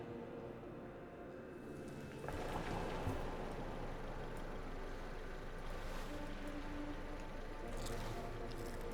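A jet ski engine in the video game Underrail, a faint washy motor rumble that swells up a couple of seconds in and then holds steady in the background, with no talking.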